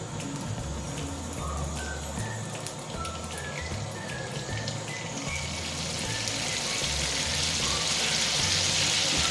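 Butter and oil sizzle in a hot kadai while tempering for rajma, a steady crackling hiss with scattered pops that grows slightly louder toward the end.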